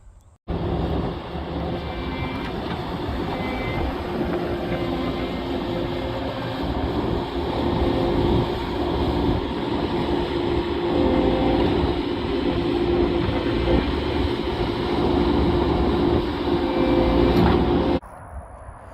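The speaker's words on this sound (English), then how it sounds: "you'll see me flailing around on the skid steer trying to get a little slope on here" A skid steer grinds steadily as it works soil into a slope on a vetiver swale, its engine a loud, continuous droning rumble close by that starts abruptly and cuts off near the end, with no talk.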